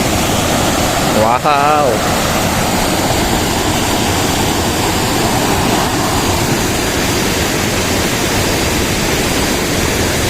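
Steady, loud roar of falling water from Curug Luhur Kersaratu, a jungle waterfall surrounded by dense trees, filling the whole scene as a continuous wash of noise, with a brief excited exclamation from a man near the start.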